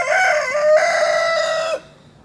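A rooster crows once, a loud, close, drawn-out call lasting under two seconds, then quiet.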